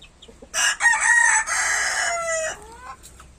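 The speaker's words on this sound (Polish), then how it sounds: "pierwszy odważny kogucik. Ładny." A young Green-legged Partridge cockerel crows once, nearby and clear, a strained multi-part call of about two seconds that trails off at the end.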